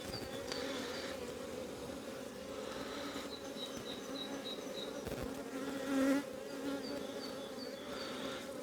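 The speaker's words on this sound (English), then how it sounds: "A couple of bees going for that hole in my glove there." Many honeybees buzz steadily and close by at an open hive, a dense continuous hum with individual insects whining past now and then.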